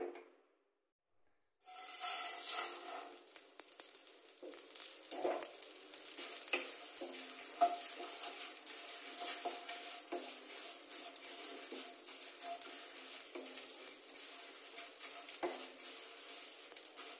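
Vermicelli sizzling and crackling in hot ghee in a kadai, a steady close frying hiss with scraping stir strokes throughout and no talk.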